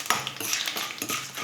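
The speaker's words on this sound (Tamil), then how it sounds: "நம்ம சேர்த்துக்கிட்ட பருப்பு எல்லாம் நல்லா வறுந்துடுச்சு." Lentils roasting in a pan for a variety rice dish are stirred with a metal utensil, giving rough scraping and rattling strokes in a steady rhythm, close and fairly loud, with no voices.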